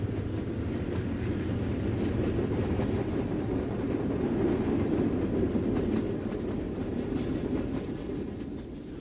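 The Wabash Cannonball passenger train, with an open-ended observation car, rolls toward Delray Junction on the Wabash Railroad, a steady loud rumble with rhythmic clickety-clack of wheels over rail joints throughout.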